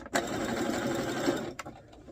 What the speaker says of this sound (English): Get to the end, do a reverse stitch.